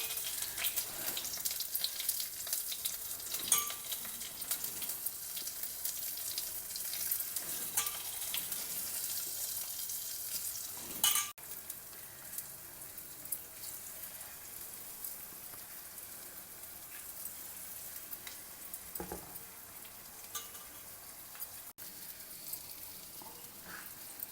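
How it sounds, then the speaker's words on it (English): Raw banana slices coated in masala fry over a low flame in a pan, giving a steady, dense sizzle with faint crackles and occasional light scrapes throughout. "Now over a low flame, allow them all to cook and become nice and crisp."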